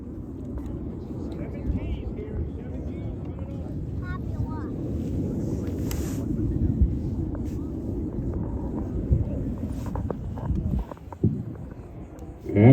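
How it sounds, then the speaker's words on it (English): Blue Angels jets at NAS Pensacola roaring overhead with afterburners lit on their GE 414 engines, a loud sustained low rumble that builds and swells, with wind buffeting the microphone. "Afterburners are lit."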